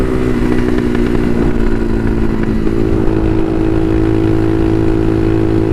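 A Bashan Motomax 250 supermoto motorcycle ridden at night, its single engine droning loud and close, holding a steady note with a slight pitch shift midway and constant rough mechanical texture throughout.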